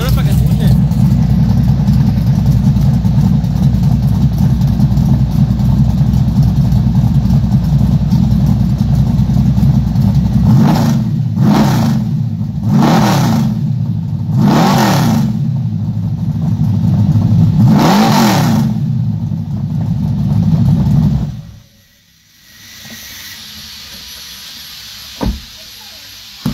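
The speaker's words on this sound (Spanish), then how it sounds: "dale un acelerón para que escuche" A car engine rumbles steadily at idle, then revs up sharply four or five times in quick bursts before cutting off abruptly; loud and close.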